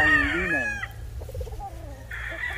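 Kelso Roundhead gamefowl rooster on a game farm gives a close, loud crow that breaks off, followed by softer clucks and a second rising call near the end.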